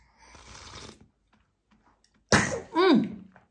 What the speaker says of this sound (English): what a sneeze